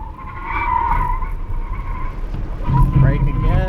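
Tires on a Ford Mach-E squeal and scrub through an autocross slide, a sustained screech over the electric car's hum, with a voice exclaiming over it near the end.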